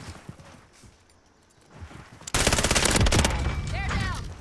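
Light machine gun firing in a first-person shooter video game, a sustained rapid burst starting abruptly after a quiet stretch and running loud and continuous to the end, with faint game sounds before it.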